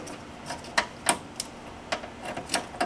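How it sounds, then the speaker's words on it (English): A trim removal tool pries an electrical connector loose on the trunk of a 2016+ Cadillac CTS-V, producing a series of sharp plastic clicks and ticks, close up and spaced irregularly, with no voices. "we've got to pop this electrical connector here. Stick our trim removal tool in there."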